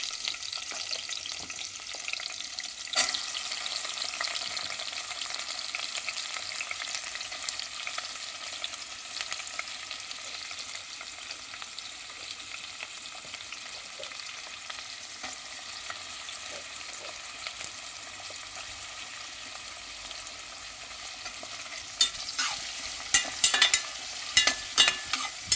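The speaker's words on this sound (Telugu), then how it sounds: "ఉల్లిపాయలు ఎర్రగా వేగాలండి" Chopped onions frying in a pan as the base of a paya (goat trotters) curry, a steady soft sizzle with occasional stirring scrapes and clicks, continuous and fairly quiet with no talking.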